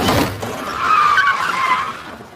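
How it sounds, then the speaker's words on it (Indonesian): A blue van without number plates skids hard and strikes a man in a film scene, with a loud, sustained tire screech sweeping across about two seconds after a sharp initial burst. "mobil van warna biru tanpa plat nomor dengan sengaja menabraknya"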